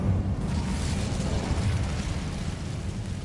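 Incendio fire spell blast in Hogwarts Legacy, a broad roaring whoosh of flame with a low rumbling boom, moderately loud and sustained for a few seconds.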